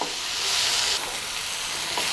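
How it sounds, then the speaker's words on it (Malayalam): Tomatoes sautéing in a pan for egg biryani give a close, continuous hiss of frying with a steady level and faint stirring movement beneath the sizzle. "ഈ തക്കാളി നന്നായിട്ടൊന്ന് വഴറ്റിയെടുക്കുക"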